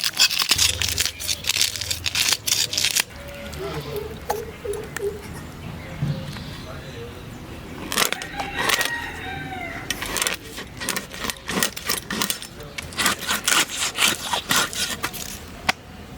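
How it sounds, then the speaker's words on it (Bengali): Scales being scraped off a rui fish produce bursts of sharp, rasping scratches in repeated strokes, close up, with quieter pauses between and faint bird coos in the background. "মাছের আঁশটা আমি ছাড়িয়ে নিচ্ছি।"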